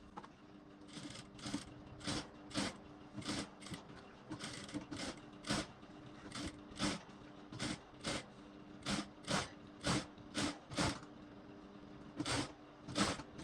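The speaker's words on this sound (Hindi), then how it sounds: "ऐसे इस प्रकार सिलाई लगाएं, कि नोक सही बने।" A sewing machine stitches a Sabyasachi-style blouse in quick bursts of rapid mechanical whirring. Short runs of stitching start and stop repeatedly, close and fairly quiet, with no talk.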